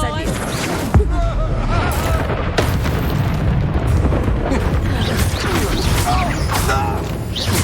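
A fire spell cast in the Hogwarts Legacy video game erupts with a sharp booming burst, followed by sustained crackling, roaring flames and clattering effects in a loud, dense mix with voices.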